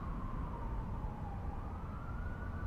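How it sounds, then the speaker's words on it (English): A siren outside wails with a steady, slowly gliding tone, faint and distant behind a low rumble of background noise, passing by without other sounds. "I think there's another siren coming."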